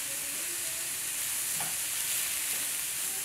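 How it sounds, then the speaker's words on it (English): Pre-cooked black beans with red onion, garlic, yellow pepper and chipotle seasoning sauté in a pan, a soft continuous sizzle with a faint stir, steady and close with no talk. "I'm gonna quickly saute some pre-cooked black beans with some red onion, garlic, yellow pepper, chipotle seasoning"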